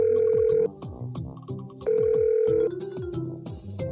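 A cartoon telephone rings while calling dad, a loud electronic ring that repeats in bursts with brief gaps between them, alongside bright tonal accompaniment and no voices.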